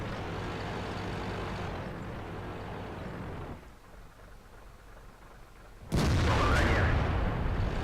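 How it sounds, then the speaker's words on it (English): A tank gun firing in a World of Tanks battle, a sudden heavy boom that lands after a stretch of rumbling engine noise and a brief quieter lull, loud and close, followed by sustained roaring. "Hellcat puts a good shot in."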